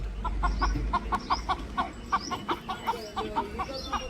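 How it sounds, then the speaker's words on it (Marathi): A chicken clucks in a quick, steady run of short notes, evenly spaced and moderately close, over a low background rumble. "त्यांचा कोंबडा हरवला."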